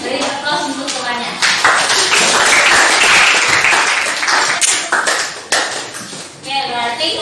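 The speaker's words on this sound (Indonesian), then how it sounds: "beri aplaus untuk temannya" Classroom applause for a student group after their presentation, a dense wash of many hands clapping for several seconds, close and loud, fading out near the end.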